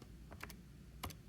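A few quick, light key presses, clustered in two short bursts, close by and soft against a quiet background.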